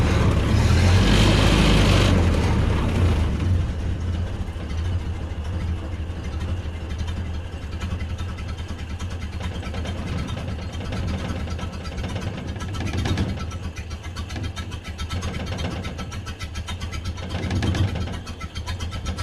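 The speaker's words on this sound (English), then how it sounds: "You can hear every single stroke of that motor." A Ford Model A barn-find engine runs at idle, a loud rev at the start settling into a steady, lumpy chug where individual strokes can be picked out, with a couple of brief throttle blips later.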